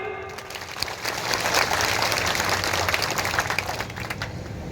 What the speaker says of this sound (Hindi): अरे ये थोड़ी जोबट की ताली, ऊपर से वहां से ताली बजा।